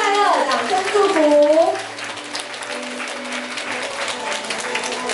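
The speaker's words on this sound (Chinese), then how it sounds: "我们用掌声再次祝福我们的新人韩颖和婉君新婚快乐，掌声祝福" Wedding guests applaud the newlyweds, a brief burst of clapping under a host's voice that fades into softer, diffuse room noise and chatter.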